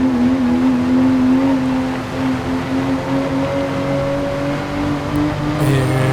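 A race car engine in Gran Turismo 7 on the Nürburgring endurance layout holds a steady loud drone with slight pitch swells as the throttle is feathered through corners, continuous and close.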